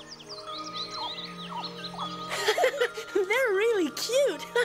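Small birds chirp in quick, rising and falling tweets amid a cartoon scene, light and close, overlapped by voices talking and giggling with a sustained musical tone underneath.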